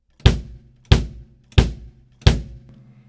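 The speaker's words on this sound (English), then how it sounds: "This is the kick drum." A drum kit's kick drum struck four times alone at an even, unhurried pace, each hit a deep, punchy thump with a short boomy decay.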